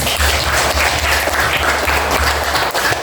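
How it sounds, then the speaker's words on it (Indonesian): Close, loud clapping from a group fills the whole stretch as a dense, even wash of applause with a low hum beneath. "tepuk tangan dulu"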